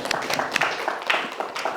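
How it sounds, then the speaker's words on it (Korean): A church congregation at a Sunday afternoon service claps in brief, irregular bursts of applause, fairly close, with some voices mixed in. "얼마나 하나님 감사 박수."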